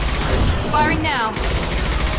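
Mass Effect 2 gunfire in a burst of sustained, dense shooting throughout, with brief tonal sweeps in the middle, heard loud and close.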